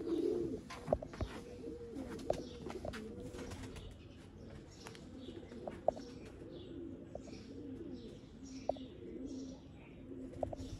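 Sialkoti pigeons coo softly in a low, repeated rhythm, with faint chirps and small clicks scattered through a quiet background.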